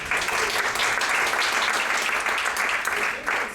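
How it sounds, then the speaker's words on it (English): Seminar audience gives two presenters a round of applause, with loud, dense, steady clapping that fills the whole stretch and dips briefly near the end. "Give both of them a round of applause."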